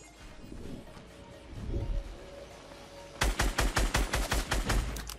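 A turret opens fire in Fortnite, a rapid burst of loud, evenly spaced automatic gunshots that starts abruptly after a stretch of quieter game ambience and continues steadily to the end.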